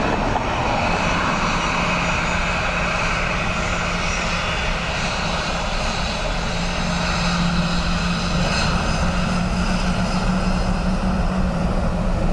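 Airplane landing on runway 28 left at Dublin Airport, a loud continuous engine roar with a steady whine holding close throughout and no talk.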